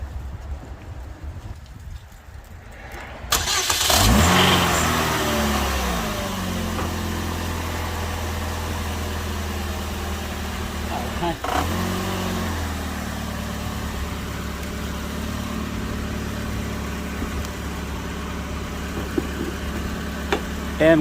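A car engine cranks and fires after being boosted with a GooLoo GP4000 jump starter, then settles into a steady, close idle with a brief rev blip partway through; no one speaks.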